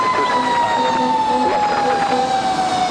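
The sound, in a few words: airport fire truck moving off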